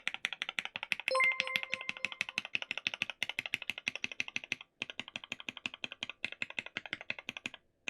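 Rapid, even typing on a JLabs JP02 SE mechanical keyboard, crisp clacks close up with a slight reverberant ring on some keys, running steadily with brief pauses.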